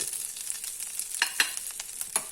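Curry leaves fry in a pan for chutney, a bright crackling sizzle with a few sharper pops and stirring scrapes, close and steady throughout.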